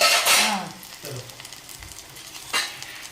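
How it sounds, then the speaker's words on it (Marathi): A sharp burst of sizzling as spices hit hot oil for kadhi tempering, settling into a quieter crackle, with a second hissing surge and light utensil clinks. "मस्त कडक फोडणी बसलेली."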